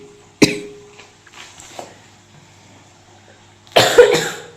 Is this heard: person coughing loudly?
yes